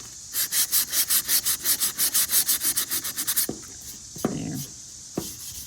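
A wooden icon board is sanded by hand with 120 grit sandpaper: about twenty quick, even back-and-forth rasping strokes, close and fairly loud, followed by a few soft knocks and rubs, with no talking.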